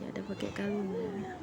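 A cat meows for food at a roadside eatery, a short drawn-out meow heard close up while someone talks over it.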